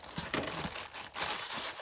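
Plastic packaging crinkles and crackles in irregular bursts, close and fairly loud, with short pauses between handlings.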